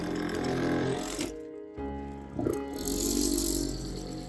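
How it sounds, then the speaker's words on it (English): A vortex mixer shakes a bottle of model paint in a dense, whirring mechanical rattle, loud and close, cutting out briefly in the middle before starting up again. "Okay, I need to vortex mix this a little bit."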